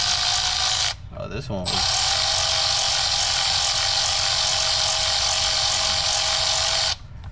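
A power ratchet whirs steadily, loud and close, while removing a guide bolt on a 2003 Chevy Cavalier. It pauses briefly near the start, when a person speaks, then runs on continuously.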